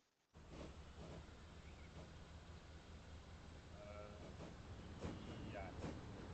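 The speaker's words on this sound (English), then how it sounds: "That's a lovely train." A Voyager train on a Mersey Rail line in a railway video game rumbles steadily along the track, a continuous low clatter that stays loud, with faint tonal blips layered on top.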